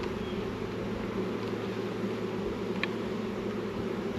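Bees buzz steadily around a large colony, making a constant faint drone with a few louder passes close by.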